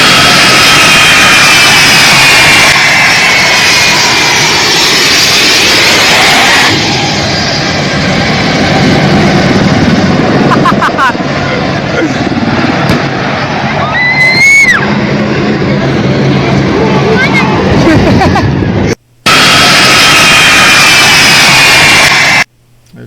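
A U.S. military transport plane taking off from Kabul airport, its jet engines a loud, sustained roar with a rising whine, broken by abrupt cuts, with faint voices underneath.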